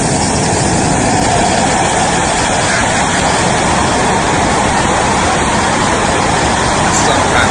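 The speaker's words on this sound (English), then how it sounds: "This B1 engine test, let's go." A B-1 bomber's jet engine roars through a test run, a dense, loud, unbroken blast of broadband noise with deep rumble that holds constant throughout.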